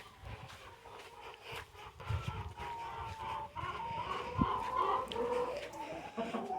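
Backyard chickens cluck and make soft calls in a steady, fairly close chatter, with a few louder squawks standing out and faint background rustling.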